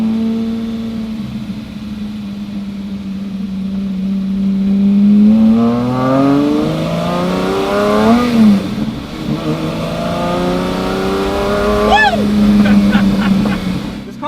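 Lamborghini sports car with adjustable suspension, a Fast & Furious build, driving with engine revs rising and falling through gear changes, heard from inside the cabin at moderate loudness.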